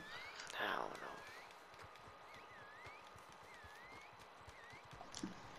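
Rhythmic hoof clops beat steadily under faint chirping birds, with a low whispering voice and a short whinny-like burst early on.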